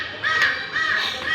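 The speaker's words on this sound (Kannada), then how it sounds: "ಕಾಗೆ ಕೂಗ್ತಾ ಇದೆ." A crow caws twice in quick succession, harsh and fairly close, with a short pause between the calls.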